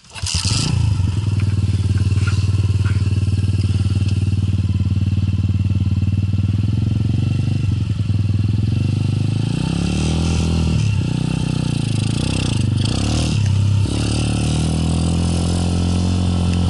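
A motorcycle engine runs loud and close for the whole stretch, holding a rough, throbbing drone with several rising and falling revs, and a clattering scrape partway through.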